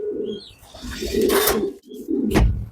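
Domestic pigeons in a loft coo in low, throaty rolling phrases, close and clear, a few bursts separated by short pauses with faint rustling.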